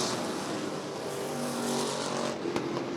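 Race cars roaring past on a circuit, a Camaro among the field, a loud continuous engine blare with a brief sharp spike near the end and no talking.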